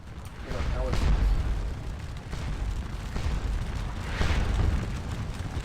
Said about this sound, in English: And I had my artillery shelling it.